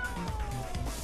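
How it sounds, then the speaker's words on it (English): Angry cats meowing in the video game Tokyo Jungle, a dense cluster of overlapping, wavering cries over steady ambient game noise, close and fairly loud through the whole second. "Oh no, angry cats!"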